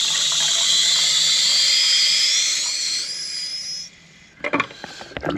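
Water rushes through a noisy underfloor heating valve with a loud, steady hissing whistle that shifts slightly in pitch, then cuts off, followed by a few clanks and knocks.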